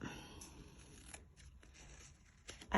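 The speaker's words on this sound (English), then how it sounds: "these are fabric scissors" Fabric scissors snip at close range, producing a few quiet, crisp cuts in a calm indoor setting, ending with a louder rustle.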